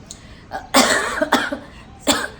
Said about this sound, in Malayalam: ചുമയുണ്ട്, ഇപ്പോഴും നല്ല ചുമയുണ്ട്